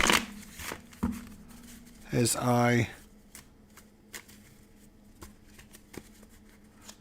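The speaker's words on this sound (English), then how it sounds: "I'm just shuffling these cards up" Playing cards are shuffled by hand for a tabletop baseball game: crisp riffles and taps come up close, including one sustained riffle, while someone talks quietly in between.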